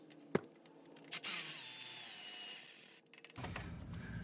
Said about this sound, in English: now I'm going to follow up with putting in the screws